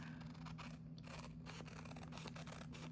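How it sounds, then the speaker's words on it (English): Scissors trimming excess paper from an envelope corner bookmark, quiet, close snipping and scraping strokes in an irregular rhythm, with no talk. "I'm going to cut off that excess"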